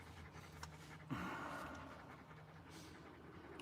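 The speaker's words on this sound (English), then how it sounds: "You're going to hear extreme panting in the background" A dog pants steadily in the background of a quiet room, soft rhythmic breaths running through the whole stretch with a brief louder rustle midway.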